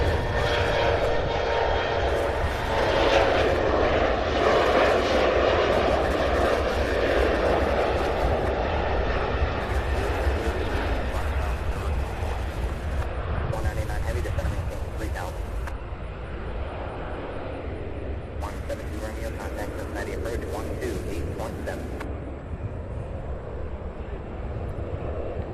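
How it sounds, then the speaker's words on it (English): A 15-year-old Delta CRJ-900 regional jet taking off at Cincinnati/Northern Kentucky airport, a loud sustained engine roar that slowly fades over the span, with occasional wind buffeting. "Delta Flight 5096, 15-year-old CRJ-900."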